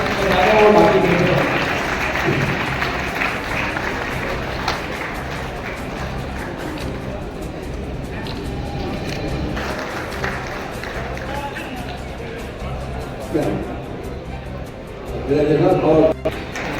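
An audience at an award ceremony for writers and players in a Kota hall claps, loudest at the start and again near the end, mixed with crowd noise and a voice speaking over a sound system.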